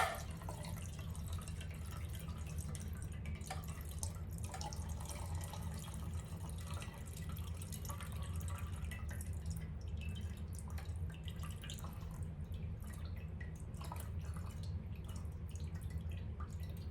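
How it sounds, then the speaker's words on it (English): Melted candle wax poured slowly into a container while making a marble candle, a faint continuous trickle with scattered small drips over a steady low background hum, lasting a long stretch without talk. "And we're gonna just go ahead and have our wax pour in."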